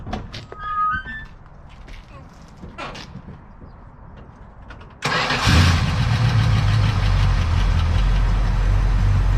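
A 1971 Plymouth Sport Fury with a 360 V8 is cranked and catches suddenly midway, roaring into a loud, rough idle after a few seconds of quiet background sounds and faint voices.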